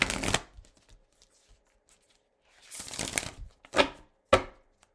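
Large oracle cards are shuffled in a few brisk riffling bursts separated by short pauses, close by with no talking.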